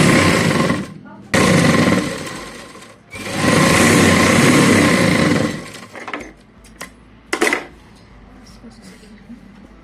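Sewing machine running in fast rapid bursts while stitching a blouse sleeve, two long loud stretches of steady needle chatter separated by brief pauses, then quieter handling clicks and a short final burst.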